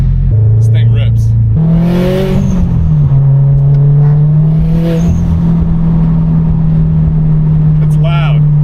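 A Subaru STI engine revs loudly up close, with a sharp climb in pitch followed by a sustained throaty drone and some brief higher sounds above it.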